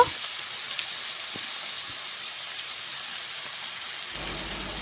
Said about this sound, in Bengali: একটু আলুগুলো ভেজে নিচ্ছি